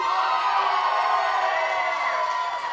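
A wrestling crowd at an independent show cheers and shouts in a steady, dense wash of noise that fills the hall without a break.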